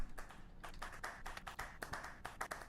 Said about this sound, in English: let's give it a round of applause for our next speaker